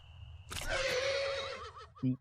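A horse lets out a loud, shrill whinny that trembles and fades, followed by a short low snort.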